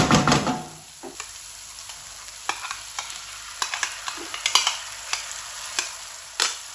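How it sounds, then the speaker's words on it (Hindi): A spoon stirs yogurt briskly into hot masala in a pan. Sharp metallic clinks and scrapes come close and in an irregular rhythm over a faint sizzle, with no speech. "और तेजी से आपने चम्मच से चलाना है।"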